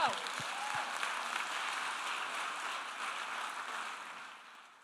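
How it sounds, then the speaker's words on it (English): A fairly distant audience claps at a youth club's Shark Tank-style program event, a soft, continuous wash of applause that slowly fades toward the end. "Yeah, that's right. Clap it up."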